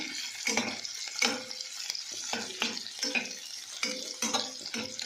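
Onions frying with cumin in a pan give a steady soft sizzle, broken by repeated scraping strokes as they are stirred, close by, with no one speaking.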